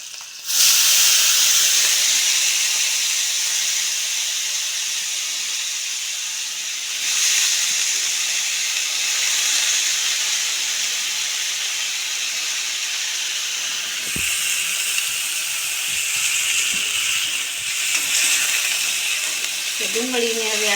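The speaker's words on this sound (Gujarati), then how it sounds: "ડુંગળીને હવે આપણે થોડીક સડવા દઈશું" Onions frying in a pan with curry leaves, chillies and mustard seeds, giving a steady loud hiss and sizzle throughout, with brief clinks near the end.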